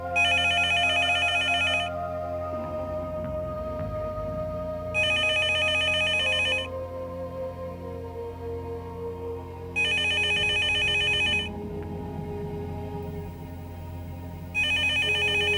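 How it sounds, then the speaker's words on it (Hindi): A phone rings in repeated electronic bursts, each about two seconds long with pauses between, loud and close over soft background music. "आप फोन क्यों नहीं उठा रही हैं?"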